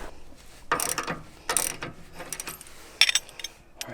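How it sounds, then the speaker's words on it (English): A wrench turns the steering adjuster on a Jeep JL Wrangler, giving close ratcheting clicks in several short bursts separated by pauses, with no voices. "We're going to take our wrench, place it on the adjuster, and we'll turn it up or down depending on what we need."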